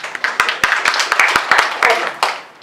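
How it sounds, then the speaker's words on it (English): Hand claps from an audience at a church gathering in Sharjah, a quick scattered run of sharp claps, several people clapping unevenly at close range over a continuous murmur of voices. "Can somebody clap?"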